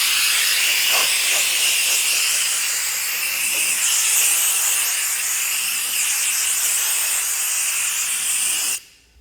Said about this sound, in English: we dry the vehicle using compressed air